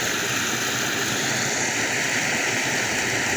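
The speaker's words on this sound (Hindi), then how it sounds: "ये देखें गटरों से पानी कैसे निकल रहा है।" Floodwater gushing out of street drains after heavy rain in Lahore, a steady, loud, continuous rushing roar with no breaks and no voices.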